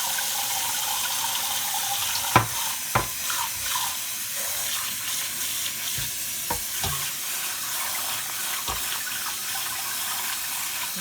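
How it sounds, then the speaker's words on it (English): Squash seeds rinsed in a colander under a running kitchen tap, a steady water hiss with a few sharp clicks and knocks of seeds and colander against the sink, nearby and no talking. "So we scrape this out, and we will rinse in the colander"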